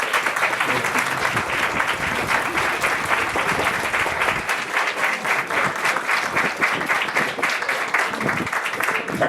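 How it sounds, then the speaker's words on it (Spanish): Audience at a university award ceremony in Tepotzotlán applauding, a loud sustained round of many hands clapping that fills the whole stretch without pause. "Vamos a otorgar un aplauso fuerte para..."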